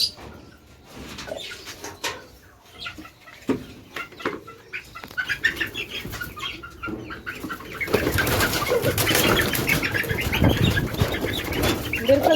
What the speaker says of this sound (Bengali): আগাম পাখিগুলোকে বের করে দিই বুঝলা